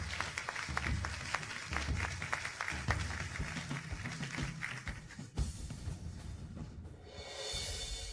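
Audience applause at a project launch conference, a dense spread of clapping that carries on steadily, then thins and tails off into quieter room noise near the end.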